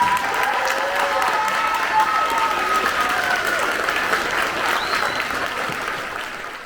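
Sustained applause from a dinner crowd at a community celebration, a dense steady patter of many hands clapping that fades slightly toward the end, with faint voices mixed in.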